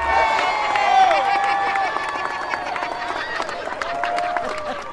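A cheering crowd at an outdoor New Jersey Little League parade, loud and close, with shouts, whoops and scattered clapping layered over a continuous roar. Voices call out throughout.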